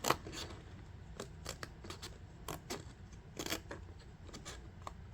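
Scissors cut a paper cut file in short, quiet snips, a dozen or so crisp closes spaced irregularly against a soft room background, close and faint.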